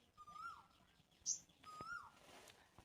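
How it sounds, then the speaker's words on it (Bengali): A cuckoo calling faintly from a distance in a flowering garden, two drawn-out whistled calls separated by a pause, over quiet background hum. "আর কোকিল ডাকছে, তোমরা কি কেউ শুনতে পাচ্ছ?"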